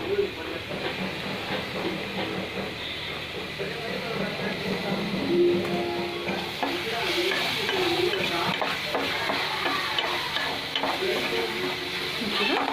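Onions with ginger garlic paste fry in a pan for prawn curry, a steady hiss and scraping stir running beneath a speaking voice, moderately close.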